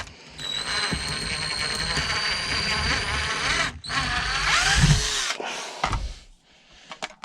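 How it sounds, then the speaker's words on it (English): Power drill bores holes for parts of a budget beetleweight combat robot, a loud steady whine that dips briefly, resumes, then winds down with ratcheting clicks near the end. "Gently at first, and then push it to an angle, and then continue with the drilling."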